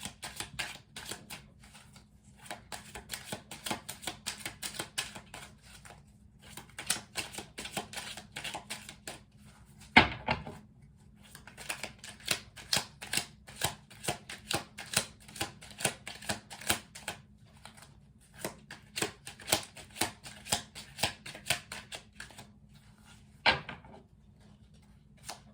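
A tarot card deck is shuffled in repeated quick flurries of crisp riffling clicks, separated by short pauses and a couple of sharper knocks, quiet and close with no talking.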